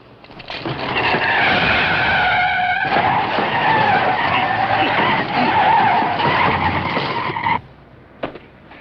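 A car skids to a stop with a long, loud tire squeal that holds for several seconds, then cuts off abruptly, followed by a short bump.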